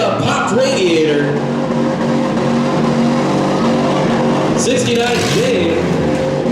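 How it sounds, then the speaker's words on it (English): Demolition derby vehicle at a semi-weld midsize van, truck and SUV derby in Mauston, Wisconsin, firing up and tearing across the track, a steady loud engine roar with a rising rev under continuous announcer-style talk. "Number 20 gets it fired up. Tears across the track."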